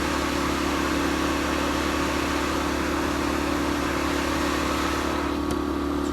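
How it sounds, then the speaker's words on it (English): An RV furnace blower on a broken furnace that won't ignite runs with a steady, even whooshing drone, heard close up and continuous with no talking, in a cold high-altitude RV setting. "you can hear the blower's blowing"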